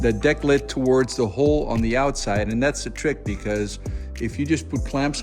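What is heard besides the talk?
None of the usual background noises is heard.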